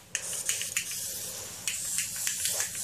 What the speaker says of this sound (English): my hairspray is being weird